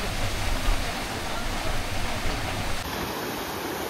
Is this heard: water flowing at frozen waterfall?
yes